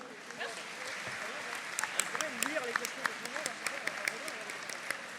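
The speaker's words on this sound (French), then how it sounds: "On peut l'applaudir?" Audience applause at a YouTubers conference during a gaming show in Toulouse, steady and moderately loud across the whole stretch, with voices and murmuring mixed into the clapping.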